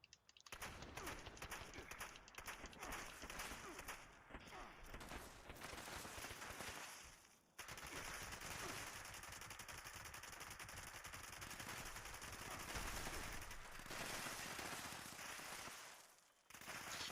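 Sustained, dense automatic gunfire from a weapon in Fallout 76, loud and nearly continuous with brief pauses around the middle and near the end, with no voices over it.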